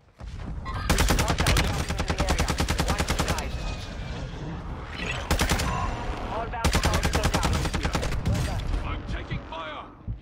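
Rapid bursts of automatic gunfire in a first-person shooter game, loud and close, in long sustained volleys with brief pauses between them and faint background game sounds underneath.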